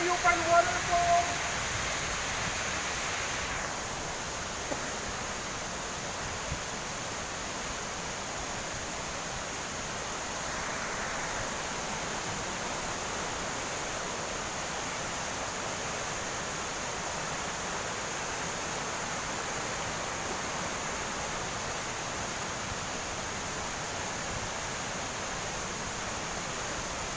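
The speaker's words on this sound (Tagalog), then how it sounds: "This is the highest waterfalls" Mantayupan Falls, the highest waterfall at a Cebu tourist site, roars as a steady broadband rush of falling water, close and continuous throughout, with a brief murmur of voices at the start.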